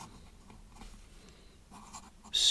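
Scratchy strokes of a Sheaffer Snorkel Sentinel fountain pen with a 14 karat nib writing on paper, faint, close and intermittent in short bursts, ending in a sharper louder scrape.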